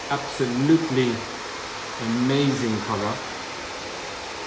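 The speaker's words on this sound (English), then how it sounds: "So you might hear a little bit of hair dryer in the background." A hair dryer runs steadily in the background of a salon during a curly haircut, a constant airy whoosh sitting beneath a voice.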